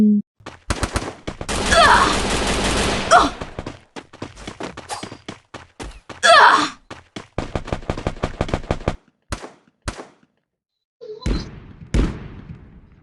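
Gunfire in the video game Free Fire, loud rapid bursts of automatic shots in dense volleys, then scattered single cracks separated by brief silences.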